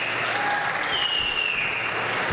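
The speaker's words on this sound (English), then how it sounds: "let's give a big round of applause to Ronnie and his team for organizing this" Audience at a cannabis industry gathering in Trenton, New Jersey, applauding the event organizers, a continuous, even roar of clapping from a crowd, with a thin whistle-like tone drifting through it.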